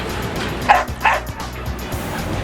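A reactive dog barks twice in quick, sharp yips during an aggression training session, close and fairly loud over a low background rumble.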